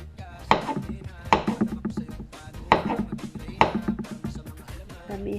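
A knife cuts through tomatoes and other sandwich vegetables on a board, with four or five sharp chopping strokes spaced about a second apart and small clatters between them. A quiet voice sits underneath.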